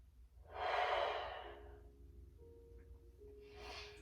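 A person in a stretching session draws a deep, audible breath, a broad whooshing inhale swelling and fading over about a second, followed by quieter exhalation and a second shorter breath near the end, close and fairly soft.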